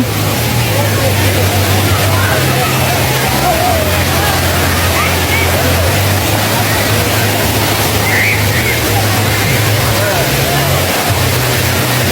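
Wang Kan Lueang waterfall in Lopburi roars in a dense, unbroken wash of falling water, loud and close, with a low steady rumble and faint voices blended into the noise.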